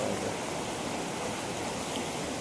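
Continuous rushing and gurgling of a stream flowing under a bridge, fairly soft and even, with no talking over it.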